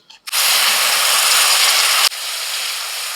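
A spice paste of ginger paste, turmeric, cumin, chilli and Kashmiri chilli powder bursts into a loud, steady sizzle in a hot pan. The hiss starts abruptly, holds strong, then drops slightly but keeps frying to the end.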